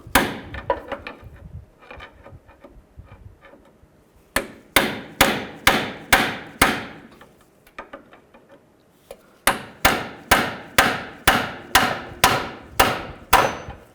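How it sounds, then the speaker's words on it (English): Hard metal hammer blows ring out in two quick, evenly spaced bursts, preceded by lighter tapping and clinking, loud and close, hammering off the pitman arm of a 2000-06 GMC Yukon. "Just try to hammer it up."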